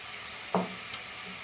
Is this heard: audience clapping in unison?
no